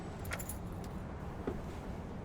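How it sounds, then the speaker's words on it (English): A Peterbilt 281-351 truck's fuel cap is handled in American Truck Simulator, giving a few faint metallic clinks and a light jangle over a low, steady engine rumble. "All right, he's got the gas cap."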